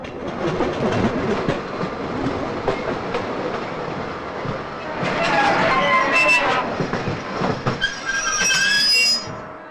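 A train rumbles steadily along with rattling wheels and occasional high squeals, a continuous loud mechanical noise with voices faintly mixed in.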